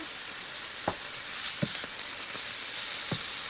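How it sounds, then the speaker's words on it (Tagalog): Chicken frying in butter in a pan, a steady hissing sizzle with a few soft spatula taps and pops scattered through it, close and even. "fry it until golden brown"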